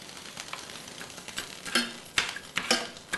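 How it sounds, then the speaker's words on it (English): Sugar and water for toffee apples stirred in a pot, a spoon scraping and clinking against the sides in uneven strokes that grow louder toward the end, close and without speech. "Give it a stir."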